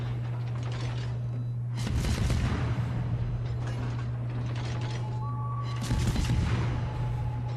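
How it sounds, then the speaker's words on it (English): Main battery guns of a destroyer fire in World of Warships, two heavy booming salvos a few seconds apart over a constant low engine hum and mechanical creaking. "go ahead and open up with the main battery guns, trying to keep them reset and get a fire"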